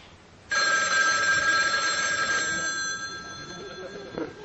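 A telephone rings with a sustained, bright electronic trill that starts abruptly and carries on loudly for several seconds, slowly fading slightly toward the end with a faint knock near the close.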